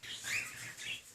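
A baby bird chirps in a few high, thin tweets over about a second, fairly close but soft, with no talking.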